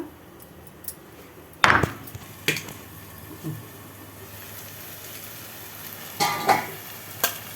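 Ground masala is fried and stirred into a prawn and cluster bean curry: a faint, steady sizzle broken by a few sharp scrapes and clinks of a spoon against the pan.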